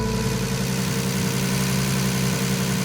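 A 700 horsepower RB26-powered Datsun 240Z idles close by, a steady, loud rumble with a lumpy low-end throb that holds evenly for about three seconds before cutting off abruptly.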